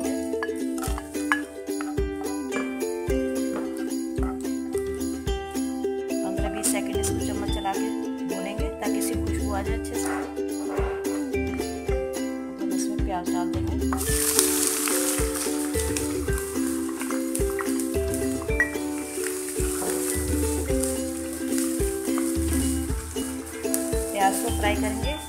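Whole garam masala spices, cinnamon pieces and black cardamom, sizzling in four tablespoons of hot oil in a wok, a hissing fry that grows louder partway through beneath prominent rhythmic background music.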